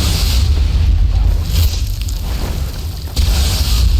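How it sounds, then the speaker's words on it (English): An elemental bolt spell in Skyrim bursts in a loud, booming explosion, with rumbling, crackling blasts that fill the whole span and a fresh surge near the end. "It also does this big explosion that routinely blows up NPCs in a pretty major way."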